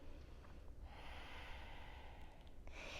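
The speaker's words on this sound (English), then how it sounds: "Breathing." Slow, deep breathing during a yoga stretch, a steady airy inhale and exhale close to the mic that fills the whole stretch with no talking.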